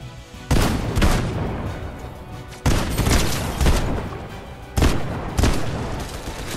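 Gunfire in the video game Fortnite, four heavy bursts of shots each followed by a rumbling decay, loud and close with no talk over them.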